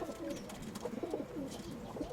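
A pigeon coos in soft, repeated rolling calls close by, over a steady low background hum.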